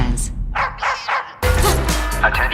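A cartoon-style dog gives a quick series of short barks and yips, about four in a row, then the sound cuts to a busier scene with layered noise and voices.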